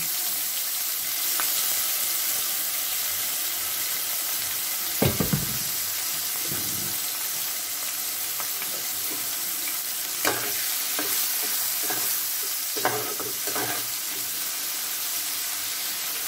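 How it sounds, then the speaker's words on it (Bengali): Prawns fry in a pan with a steady, fairly loud sizzle, broken by a few sharp stirring scrapes and clinks, with no voices. "চিংড়ি মাছগুলো সব একটু ভেজে নেব।"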